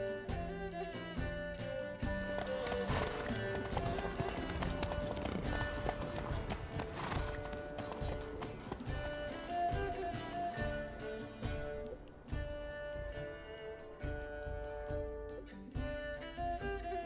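Hooves of Roach, Geralt's horse in The Witcher 3, clip-clop at a gallop in a steady rhythm beneath loud orchestral game music.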